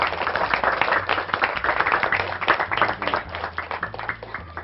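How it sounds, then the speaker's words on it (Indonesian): A classroom of high school students claps together for a few seconds, a dense, uneven patter of many hands under a steady, fairly loud level. "Tepuk tangan buat kita semua."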